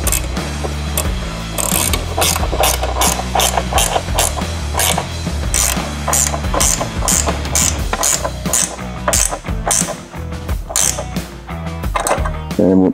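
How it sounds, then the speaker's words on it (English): A ratchet tightening 10 mm bracket bolts on a Harley Fat Bob headlight fairing, rapid loud clicking ratchet strokes in repeated bursts, close up and continuous throughout. "This is going to be with a 10 mil, and we'll go ahead and tighten those down."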